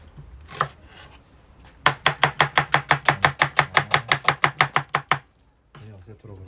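Rapid, even chopping of meat on a board, about twenty sharp knife strikes in a quick steady rhythm, close by, with a brief murmur before and after.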